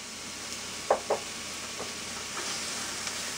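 Chopped onion and carrot fry in olive oil in a skillet, a steady hiss of sizzling with two sharp knocks early on and a few softer stirring taps after, with no voices.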